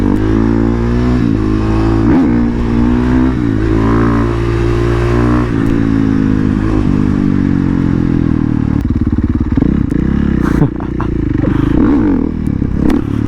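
A supermoto dirt bike rides through the desert with a loud, close engine that revs up and down through gear changes, with crackles and rattling from the ride.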